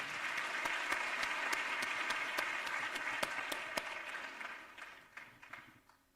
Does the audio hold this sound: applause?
yes